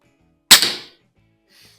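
A single sharp crack from a Norica Variatus 2.0 .22 bullpup air rifle at an outdoor range, close and loud with a short decaying tail, followed by a faint distant tick.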